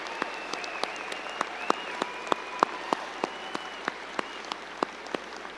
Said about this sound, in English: Please help me by applauding and cheering for our amazing staff and faculty here at Lakewood High School.